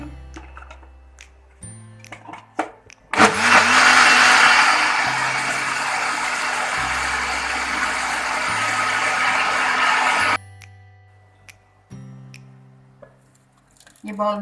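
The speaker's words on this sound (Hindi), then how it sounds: "फिर ग्राइंडर में ग्राइंड कर देंगे।" An electric kitchen grinder whirs loudly for about seven seconds as it grinds a watery masoor dal mixture, starting and stopping abruptly, with someone talking before and after.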